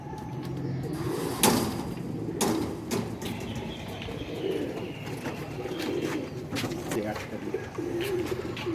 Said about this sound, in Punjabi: ਬਹੁਤ ਹੀ ਮਿਆਰੀ ਕਬੂਤਰ।